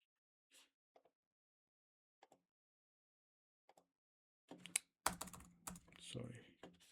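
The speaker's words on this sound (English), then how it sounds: "I have to type it again." Keys tapped on a computer keyboard while entering a command line instruction, a few sparse clicks at first, then a denser, louder burst of clattering keystrokes and handling noise near the end.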